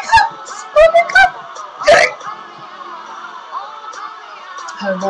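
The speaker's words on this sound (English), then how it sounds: "Oof, got hiccups." A person has a bout of hiccups: several short, sharp vocal jerks in an uneven rhythm over quiet room noise, the loudest in a cluster near the start and another burst shortly after.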